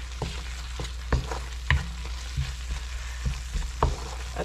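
Curry powder is stirred into beef curry in a sizzling pan, with a steady frying hiss under scattered scraping knocks of the spoon against the pan, close and moderately loud.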